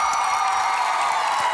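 A studio audience on a comedy show applauds and cheers to welcome a guest, a brief, dense wash of clapping that stays steady and loud throughout.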